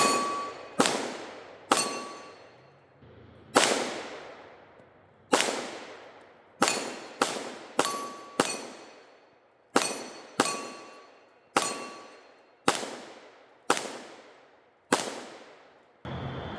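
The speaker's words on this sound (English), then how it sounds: "let's take a few more shots here at the MGM targets" Gunshots ring off MGM steel targets, a 10-inch hex and auto popper set, from a rifle firing 115-grain projectiles over silhouette powder. About fifteen sharp cracks each end in a bright metallic clang, spaced irregularly with ringing decay between them.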